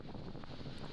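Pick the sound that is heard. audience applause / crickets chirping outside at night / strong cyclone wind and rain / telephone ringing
strong cyclone wind and rain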